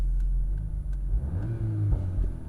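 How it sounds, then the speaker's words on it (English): An idling 2021 VW Golf R with Performance Pack rumbles steadily, with a few sharp popping crackles from the exhaust scattered through it. "exhaust pops and bangs"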